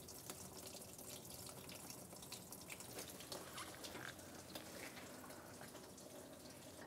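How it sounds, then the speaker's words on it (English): Coolant draining from the thermostat housing of a 1992–1996 Ford F-150, heard as a faint, steady splashing trickle of liquid throughout. "just turn it so you see the coolant start to come out"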